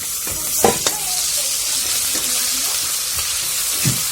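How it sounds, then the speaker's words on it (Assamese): Ginger-garlic paste frying in a pan for a duck meat curry, a steady broadband sizzle with a few sharp spatula stirs and scrapes near the start and end, close and continuous, no talking. "এখিনি ভাজি লৈছো অলপ দেৰি।"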